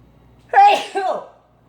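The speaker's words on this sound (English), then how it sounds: "I think I'm going to sneeze." A single sharp sneeze in two bursts, a quick intake then an explosive release, close and loud against a quiet background.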